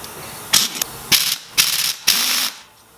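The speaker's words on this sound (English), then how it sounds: "Unscrew the cap. Put a wrench on this nut." A wrench works a nut loose on KX250 forks in four short, evenly spaced bursts of metallic ratcheting and scraping, close up with no talk.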